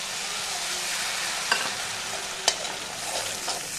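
Onion-garlic paste and tomato fry in a pan with a dense, steady sizzle, stirred throughout, with two sharp spoon clacks against the metal.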